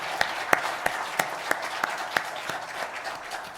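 A church congregation applauds together in praise, with sparse, distinct claps spaced roughly a third of a second apart over a soft, diffuse background wash.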